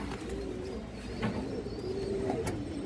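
A Kalibaga giribaz male pigeon coos in soft, low drawn-out notes against a steady background hiss, the murmuring rising slightly midway and staying faint and close, with no one speaking.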